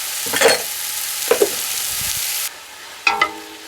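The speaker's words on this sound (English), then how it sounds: "add in 5 cloves of minced garlic and 1 diced medium onion. And we're going to cook that for 3 to 4 minutes" Five minced garlic cloves and a diced medium onion sauté in a hot pan for beef tacos, with a steady sizzle broken by three rough stirring scrapes, the frying hiss dropping away after a cut.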